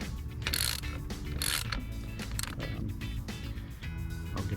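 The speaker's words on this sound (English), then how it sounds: "You need an 8mm socket. So let's just go ahead and take it off." A ratchet fitted with an 8mm socket loosens bolts during removal of a turbo blow-off valve, giving quick repeated clicking bursts close to the microphone against a steady mechanical background hum.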